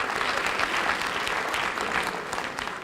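A school assembly audience giving a round of applause, dense steady clapping from many hands filling a large hall, loud and continuous.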